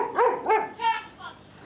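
A stray dog found on a road barks three times in quick succession, then gives a softer yip, close and clear with no talking.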